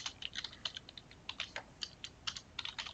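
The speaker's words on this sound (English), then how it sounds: "we're going to type in a heading, something slogany." Typing on a computer keyboard to enter a heading in a WordPress Divi theme layout, a quick irregular run of close, crisp key clicks with no talking.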